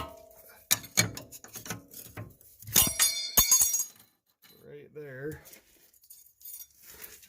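A spanner wrench clinking and scraping against the adjuster nut of a Maxpeedingrods front coilover, giving bright metallic clanks and jangles in bursts, with someone talking in between.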